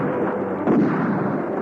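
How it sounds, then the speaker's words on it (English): Gunfire from a Thunderbirds puppet show episode, a dense burst of shots over a muffled, rumbling soundtrack, one louder crack standing out briefly. "Gordon kept Godber and Roach busy with a hail of gunfire"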